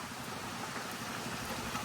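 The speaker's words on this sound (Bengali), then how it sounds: "দেখতে দেখতে এই যে একদম ভারী বৃষ্টি নেমে গেছে।" Heavy rain pours steadily over open village fields under a dark, windy sky, a dense continuous hiss with no break and no voices.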